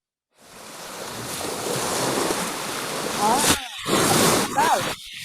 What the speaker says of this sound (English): waves from the beach